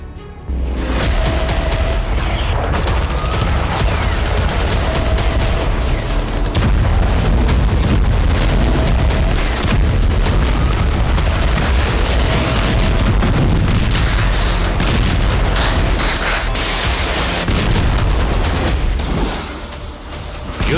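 Rocket and missile fire in Israel-Gaza war footage forms a continuous roar of booms, blasts and crackling bursts, loud and dense for the whole stretch with no clear pauses.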